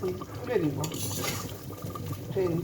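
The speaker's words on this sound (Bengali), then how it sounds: "আর এদিকে শাকের ভাজিটা ভেজে দিচ্ছি" Leafy greens being stir-fried in a pan for a Bengali home-cooked meal, with steady scraping and clinking of a utensil against metal, close and continuous across the clip, plus a faint voice briefly in the background.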